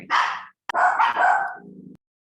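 A dog gives a few sharp barks in quick succession, close and loud, the last one trailing into a lower whine before silence.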